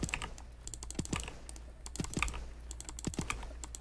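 Number keys on a computer keyboard clack in quick, irregular bursts of presses during fast play of a first-person shooter, close and clear against a low background hum.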